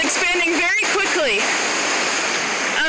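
Rushing creek water surges loudly and continuously during a flash flood along a trailer park in Manitou Springs, a steady roar that persists under and after brief voices speaking early on.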